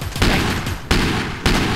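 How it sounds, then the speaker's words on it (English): Heavy rifle firing in the Teleglitch video game: three loud, booming shots evenly spaced, each followed by a sustained roar, with no voices. "Heavy rifle."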